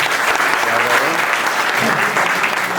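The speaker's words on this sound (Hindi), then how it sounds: "एक बार जोरदार ताली से बता दें।" Loud audience applause at a closing ceremony of a moral education camp at a Digambar Jain temple in Rohini, Sector 5: dense, steady clapping from a close crowd throughout, with voices mixed underneath.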